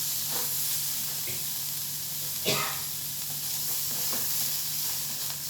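Curry leaves and urad dal frying in a pan give a continuous close sizzle and hiss, broken by occasional scraping stirs, one sharper clatter midway.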